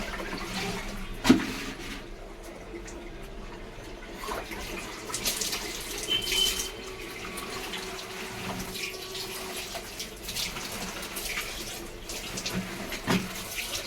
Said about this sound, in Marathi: हे पाणी मी लगेच टाकून देते